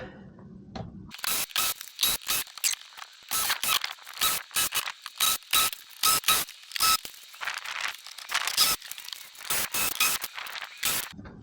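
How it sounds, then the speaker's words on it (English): Screws are backed out of a 2024 Corvette radiator grill with a ratcheting driver, giving a long run of quick, close, loud ratchet bursts in an irregular rhythm with short pauses between them, and no talking. "what you'll be able to see is me going in and taking out all these screws"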